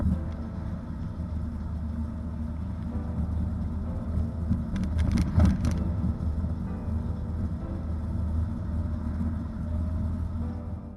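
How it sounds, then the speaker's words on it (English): Steady car driving rumble with a dash-mounted action camera picking up low road and engine noise, a brief louder burst of rattling around the middle, continuous and fairly close throughout. "you can hear the dash cam rattling as you're driving along"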